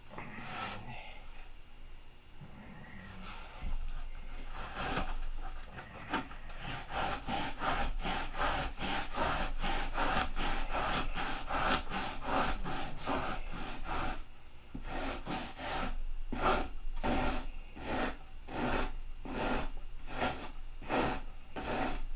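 Wood is sanded by hand with coarse 40 grit sandpaper, giving close, rhythmic scratchy strokes that start quietly and then build into a fast, steady back-and-forth rasp.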